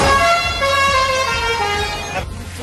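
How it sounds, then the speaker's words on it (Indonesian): A telolet-style musical horn sounding from inside an old oplet-type minivan in Jakarta: several sustained melodic tones play loudly and close for about two seconds over road and engine noise, then cut off abruptly. "terdengar jelas suara klakson telolet dari dalam mobil sejenis oplet"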